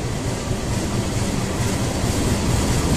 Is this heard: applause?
no